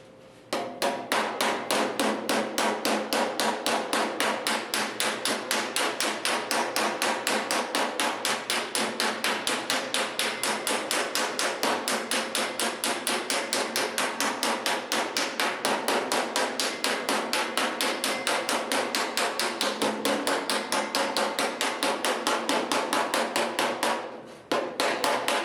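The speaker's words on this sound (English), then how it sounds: "what I'm going to do is just hammer just in the center of our repair panel here" Metal hammer blows on a dolly shape a steel repair panel for a Ford Model A roadster: a fast, steady stream of ringing strikes runs nearly nonstop and loud, with one brief pause near the end.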